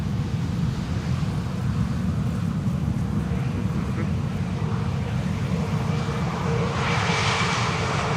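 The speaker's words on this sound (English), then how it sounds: "A321neo" An Airbus A321neo arrives at Schiphol's Polderbaan runway, its engines a loud, steady roar that holds throughout with no pause.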